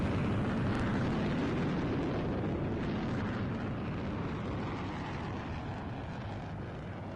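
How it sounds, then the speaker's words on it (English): A fighter jet's afterburners reignite as it pulls away from the runway during an air show above Nellis, a loud, broad distant roar that rumbles steadily and slowly fades. "the burners reignite to pull away from the runway as quick as possible"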